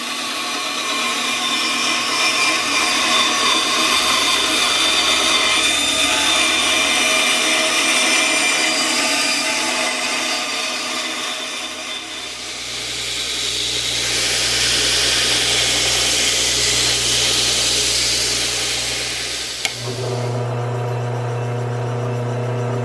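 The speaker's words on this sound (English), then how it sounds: "We'll drill this hole out, and then we'll cut that out" A steel piece for an arbor press is drilled with a power drill, giving a continuous grinding, whirring run of about twenty seconds whose pitch shifts partway through and ends with a brief clunk.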